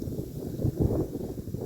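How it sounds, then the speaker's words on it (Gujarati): Wind buffets a microphone outdoors near a field, a low rumbling roar that swells and fades continuously with no talking. "હવે પવનનો અવાજ બહુ આવશે"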